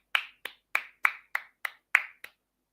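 Eight evenly spaced claps from Arsenal away fans applauding a substituted Tierney off at Southampton, crisp and close with brief silences between each clap.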